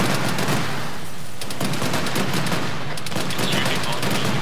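Enemy BMP armored vehicle firing at close range in Arma 3, with rapid, loud bursts of automatic cannon and gunfire that repeat in clusters over a continuous noisy battlefield background.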